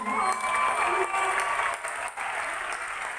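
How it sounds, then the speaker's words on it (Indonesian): A church congregation applauds during a sermon, a dense sustained wash of many hands clapping with a few cheers and whoops, fairly distant and steady, briefly dipping before carrying on. "Kita berikan tepuk tangan buat Tuhan."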